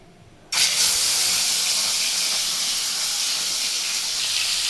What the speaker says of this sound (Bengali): তো চলো এবার মাছগুলো তেলের মধ্যে এক এক করে ছেড়ে দিই।